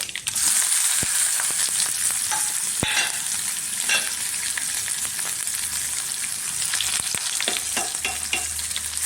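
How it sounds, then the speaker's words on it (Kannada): Onion, garlic, green chilli and curry leaves splutter in hot oil for a tempering. A continuous crackling sizzle is broken by frequent sharp pops and stirring scrapes, close and even throughout, with no voices. "ಇದೆಲ್ಲ ಚಟಪಟ ಅಂತ ಸಿಡಿತಾ ಇದೆ"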